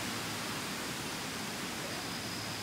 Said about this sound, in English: There's some of the waterfall there.